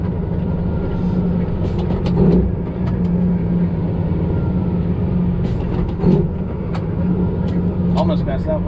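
A truck engine drones steadily while gears are floated in a 10-speed transmission, with a few brief surges and rattles, and a person talks over it.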